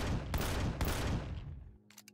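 Rapid gunfire aimed at a turret in the video game Empyrion, a dense burst of loud, close shots with a couple of sharp cracks that cuts off abruptly into a faint tail.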